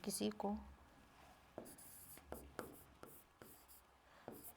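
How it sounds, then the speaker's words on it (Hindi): Pen or chalk writing during a Hindi grammar lesson, a burst of faint voice at the start followed by a series of short scratchy strokes and taps, close and moderately quiet. "ऐसे लिखेंगे"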